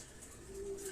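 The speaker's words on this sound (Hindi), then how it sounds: "चलो ठीक है, कोई और कबूतर दिखाएं।" Racing pigeons coo softly in a loft, a single low sustained coo rising faintly over quiet background hiss, with no talk.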